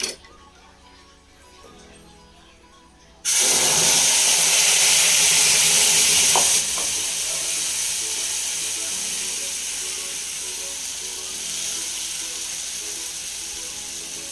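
Ground spinach, onion, chili, ginger and garlic tipped into hot oil set off a sudden loud hiss and sizzle that stays strong, then eases a little and keeps frying steadily, with faint pan clatter.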